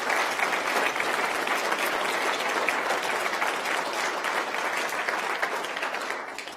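An audience at a cancer program address claps in sustained applause, a dense crackle of many hands that holds steady and then begins to fade toward the end.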